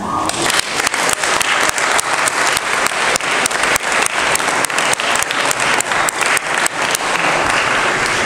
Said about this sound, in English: please stand and applaud for each recipient of an academic sweater